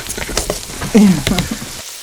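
Chicken parm sausages spit and crackle as they fry in a pan for a pizza-style sandwich. The close, loud sizzle comes with a brief pop and hiss partway through, then drops away abruptly at the end.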